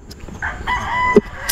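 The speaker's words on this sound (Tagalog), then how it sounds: "Kasi may mga manok sa loob. Panabong siguro itong mga nasa loob." Fighting roosters inside a coop let out a short crow with a clucking note, close and fairly clear against faint background noise.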